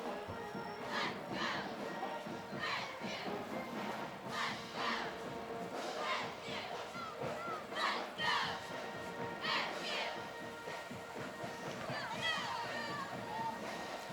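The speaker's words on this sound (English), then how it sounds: "let's hear a little cheer from them" A homecoming parade crowd cheers and shouts outdoors as a group passes, with scattered whoops, children's voices and calls rising in bursts above a constant hubbub, fairly distant and spread out.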